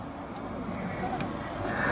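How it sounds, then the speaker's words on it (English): A Dassault Rafale jet with twin Snecma M88-2 afterburning turbofans roars at an air show, a dense, steady broadband rumble and hiss that fills the air continuously, with a voice speaking over it. "it's a twin-engined aircraft, a pair of Snecma M88-2 afterburning turbofans"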